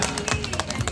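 Applause from a crowd at an outdoor ceremony laying the foundation stone for a gold refinery, dense continuous clapping with scattered louder claps throughout.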